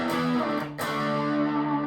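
A Fender Stratocaster electric guitar with mild overdrive, a sustained chord ringing out, briefly choked and restruck, warm and slightly gritty with no voices.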